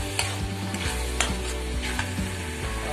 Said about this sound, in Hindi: इसको भी मिक्स कर देंगे।